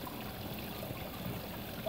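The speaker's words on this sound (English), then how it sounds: "I love the sound of the running water too." Running water in an indoor office pond makes a steady, close trickling and splashing wash that holds an even level throughout with no voices.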